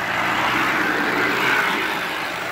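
Steady engine rumble and road noise from a local motorized trolley vehicle riding toward the highway in Laguna, close and continuous with no breaks, no talking.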